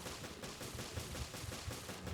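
Rapid bursts of gunfire from the video game Resident Evil Revelations in Raid Mode: repeated low, punchy shots in quick succession, fairly faint and steady across the clip, with no talking.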